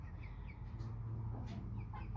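White Holland Heritage turkeys in a pen give soft, scattered clucks and short calls over a steady low hum, with no voices.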